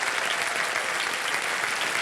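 Studio audience on the KBC game show applauding a departing contestant, a brief, dense burst of clapping from many hands, loud and continuous.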